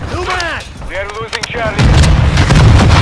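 In Call of Duty: Modern Warfare 2 (2022), an RPG detonates with a loud, sustained explosive blast that follows a stretch of voices talking over the game.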